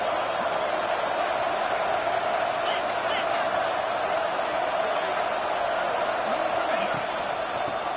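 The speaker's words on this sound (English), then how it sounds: "This crowd is trying to inspire this defense to make a big red zone stop." Stadium crowd noise from EA Sports College Football 26 during a playoff game, fans roaring to back a red-zone defensive stand: a loud, steady, unbroken wash of roar that holds at one level throughout.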